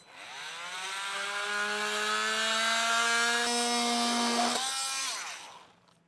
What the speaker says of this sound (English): I have an oscillating tool that works really well. We'll just cut this portion off.